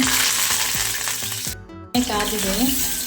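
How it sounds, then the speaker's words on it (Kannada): Mangalore-style mackerel (bangde) drops into hot oil in a pan, and a loud sudden sizzle bursts up after a brief hush, then keeps hissing and crackling close by. "ಮೀನು ಹಾಕ್ತಾ ಇದ್ದೀನಿ ನಾನು."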